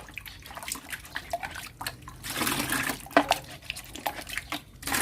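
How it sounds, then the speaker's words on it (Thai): Water splashing and dripping as molasses residue is rinsed from a container using a measured five litres of water, with irregular close splashes and a louder pouring burst midway. "เราก็ใช้น้ำในขวดนี้แหละครับ น้ำที่เราตวงไว้ ห้าลิตร ล้างเขานะครับ"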